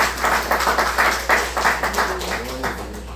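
A church congregation applauds together during a service, a full room of clapping in uneven waves close by, with a faint voice rising briefly near the end.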